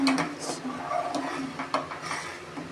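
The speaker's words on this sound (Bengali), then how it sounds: "এটা খানিকক্ষণ নাড়তে হবে, না হলে পরে না চালটা দলা লেগে যাবে।" Rice simmering in milk for a jaggery rice payesh is stirred steadily in a pot, producing a soft sizzling bubble with repeated scraping and clinking of the spoon against the pot.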